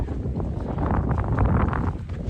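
Blustery wind buffeting the microphone, a continuous low rumbling roar that swells and dips over a couple of seconds with no voices.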